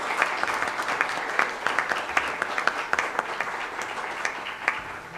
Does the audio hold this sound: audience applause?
yes